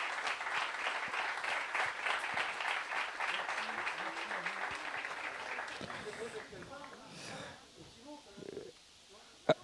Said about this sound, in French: Les photos, les applaudissements